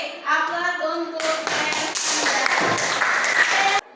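Students applaud in a classroom during a science lesson on the planets, a dense burst of clapping starting after about a second and sustained to the end, loud and close, with a speaking voice briefly at the start.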